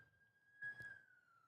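An ambulance siren heard faintly from outside, a steady wailing tone that slowly drops in pitch as it passes, with a brief rumble of traffic in the middle.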